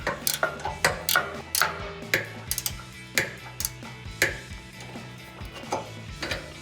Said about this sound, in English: I'm going to use my ratcheting wrench and see if it'll get in there